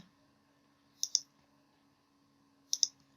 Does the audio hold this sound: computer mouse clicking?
yes